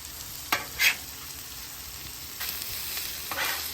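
Breakfast taquitos browning in bacon fat on a hot griddle give a steady soft sizzle, with a few brief scraping or stirring bursts standing out, no talking.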